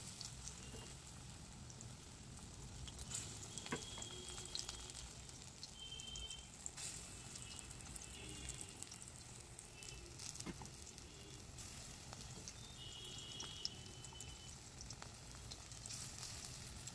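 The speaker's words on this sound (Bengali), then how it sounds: "বাকি বড়াগুলো একইভাবে ভেজে নেওয়া হবে।" Capsicum pakora fritters fry in oil with a faint, continuous sizzle and crackle heard alone, with no voices.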